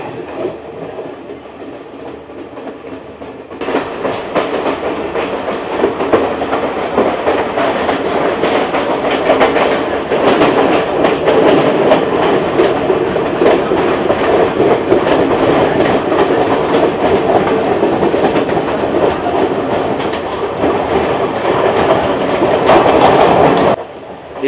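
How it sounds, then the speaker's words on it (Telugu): An intercity express train runs from Kandy to Colombo past small villages, its loud continuous rumble and rhythmic clickety-clack of wheels on rails steady from start to finish, with a sudden rise in noise early on. "ఇలా చిన్న చిన్న పల్లెటూరులో నుంచి వెళ్తుంది ట్రైన్"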